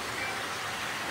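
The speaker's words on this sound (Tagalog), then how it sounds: "Ay, nako, ulan. Ang lakas pa ng ulan." Steady heavy rain in Rizal hisses evenly, a dense continuous wash of noise with no pauses or voices.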